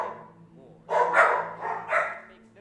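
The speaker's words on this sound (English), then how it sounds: "I think you hear my dog." A dog barks several times in a quick uneven burst, fairly close and loud, over a steady low background hum.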